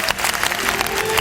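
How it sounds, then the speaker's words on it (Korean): Audience at a company's tenth-anniversary event applauding, dense sustained clapping from a large crowd, loud and close with scattered cheers. "이 행사 대행하시는 분들에게 박수 한번 주세요"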